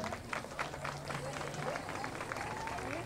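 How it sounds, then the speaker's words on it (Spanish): Audience at a nighttime Day of the Dead festival applauds performers dressed as Catrinas; continuous, fairly faint crowd clapping blends with background murmur and voices. "Aplauso para las Catrinas."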